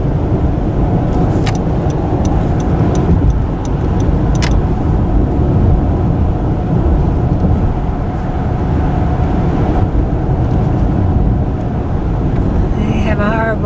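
Cars approaching along a road near Point Dume in the aftermath of the Woolsey Fire: a continuous, fairly loud rumble of traffic that builds and holds, with a person talking over it.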